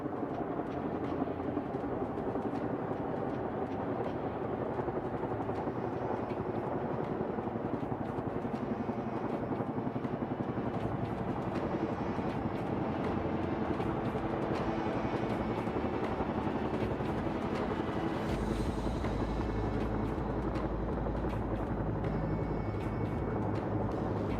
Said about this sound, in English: आप देख पा रहे हैं कैसे हमारे सामने हमारे हेलीकॉप्टर्स एक जगह पर पोजीशन मेंटेन कर रहे हैं।